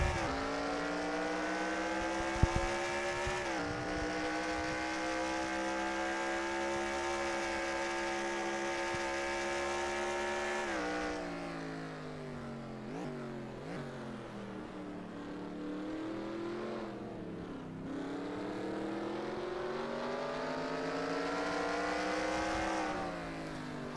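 Racing engines from NASCAR Racing 2003 at Charlotte, a steady loud multi-car drone of high revs that dips and climbs as the cars shift, sustained throughout with no talk.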